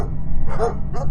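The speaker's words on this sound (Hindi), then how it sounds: "दूर कहीं कुत्ते भौंक रहे थे" A couple of dog barks in a night-time horror story scene, two short muffled yelps over a low rumbling background, sounding somewhat distant.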